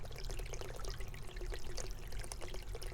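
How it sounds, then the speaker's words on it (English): A stream runs over rough black rocks in a continuous, fairly soft rush, with splashy trickling bursts throughout. "The stream calls me down to its edge, down to a place with rough black rocks"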